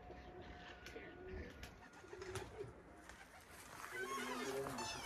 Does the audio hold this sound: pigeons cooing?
yes